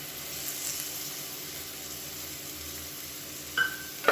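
Ginger garlic paste frying in oil over a medium flame makes a steady, moderate sizzle with faint stirring, alone and unbroken, ending with a couple of sharp metallic clinks.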